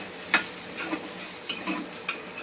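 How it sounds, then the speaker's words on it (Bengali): Tomatoes and chicken frying in a pan with a soft steady sizzle, while a utensil scrapes and clinks against the pan in three sharp strokes. Nearby and fairly quiet, with no talking. "আমি এটাকে ভালো করে ভেজে নিচ্ছি"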